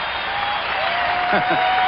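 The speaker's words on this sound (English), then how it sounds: "That's enough to get any crowd excited." Arena crowd at a 1996 Lakers at Timberwolves NBA basketball game roars steadily after a Kevin Garnett slam dunk, a dense, sustained cheer filling the whole moment with a broadcaster's voice faintly under it.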